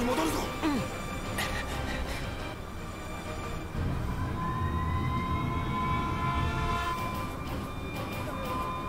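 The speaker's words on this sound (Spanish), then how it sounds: "La sirena. Suena diferente." Siren wailing in Xenoblade Chronicles Definitive Edition on Nintendo Switch, a rising tone sounding through dense game music and ambient noise, fairly steady over several seconds.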